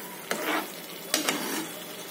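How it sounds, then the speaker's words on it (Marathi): A spoon stirs paneer cubes and chopped coriander through a thick butter paneer masala in a pan, giving a few soft scraping strokes with two sharper scrapes, close by and with no talking. "मी पनीर आणि कोथिंबीर घातलेली आहे, ती मिक्स करणार आहे"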